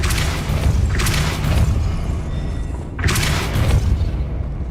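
Depulso spell cast in Hogwarts Legacy, heavy booming blasts with a bright whooshing burst, two loud hits about two seconds apart over a rumbling low background.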